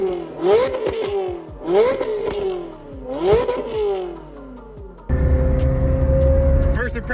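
A cheap Ferrari fitted with an expensive F1-style exhaust revs up hard three times in rising, wailing sweeps, then settles into a loud, steady high drone with a sustained whine.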